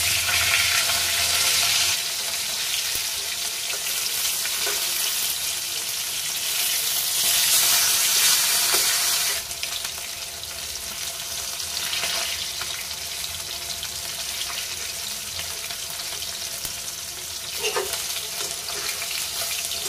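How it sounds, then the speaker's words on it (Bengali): Rohu fish pieces frying in hot oil in a kitchen pan give a steady, loud, broad sizzle for about twenty seconds, with a few faint clinks and shifts as the pieces settle. "দেখি আমার মাছটা কত অবধি ভাজা হলো"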